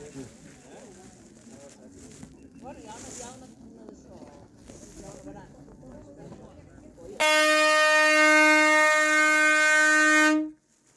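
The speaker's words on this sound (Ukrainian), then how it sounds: "Так, це вже гудок щоб всі спускались, тому що буде закриватись локація." Closing horn at the Innsbruck mountain cable car station, a loud sustained tonal blast lasting about three seconds that follows soft outdoor ambience with people talking nearby.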